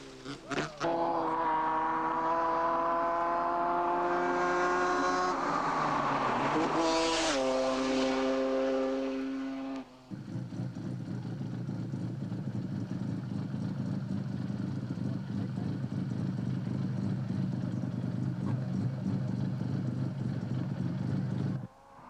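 A rally car is driven fast on a stage in a 1985 rally, its engine a loud, steady drone that climbs in pitch, drops away, then settles into a rougher constant roar.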